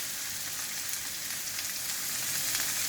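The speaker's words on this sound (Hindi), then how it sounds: "now we add the carrot and the chopped cabbage" Carrot and chopped cabbage fry in a pan with a constant, fairly quiet hiss of sizzling vegetables and no talking.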